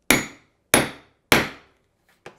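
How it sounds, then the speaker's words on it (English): Hammer blows drive a snap tab into an in-the-hoop 3D pinwheel, three loud, evenly spaced sharp strikes followed by a lighter fourth tap, each ringing briefly before fading. "You got to hammer it pretty well, especially on the long ones."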